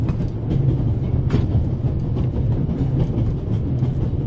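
The Orient Express, running from Paris to Istanbul, rumbles steadily along the rails in a video game, a loud continuous low roar with faint rhythmic clatter and no voices.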